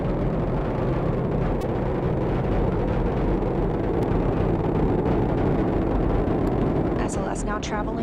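NASA's SLS rocket roars during the Artemis-1 launch near max Q, a dense, steady low rumble that fills the whole stretch without letup, with a few faint higher chirps near the end.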